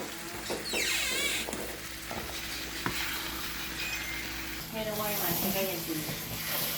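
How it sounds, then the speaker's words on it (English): Chicken liver being stirred into a Guyanese-style curry in a pot, with wet scraping and soft sizzling, a sharp utensil knock midway and a voice talking throughout. "I'm gonna mix up this liver inside the curry"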